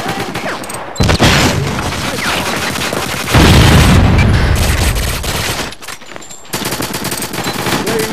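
Rapid automatic gunfire and a heavy grenade blast from GoldenEye on the Wii, loud and continuous, with the explosion's deep roar in the middle and firing resuming after a short break.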